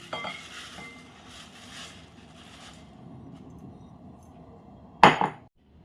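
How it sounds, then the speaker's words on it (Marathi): Dry flattened rice (poha) poured and shuffled into a large mixing bowl, a soft continuous rustle that fades, then one sharp clink of a utensil against the bowl near the end. "आता मिक्स करण्यासाठी या मोठ्या बाऊलमध्ये हे मी पोहे घेते"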